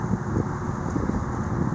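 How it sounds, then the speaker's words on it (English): Steady wind rushes and buffets outdoors over a grassy pond, a continuous low roar with gusty fluctuations and no other distinct sounds. "it's kind of windy right now"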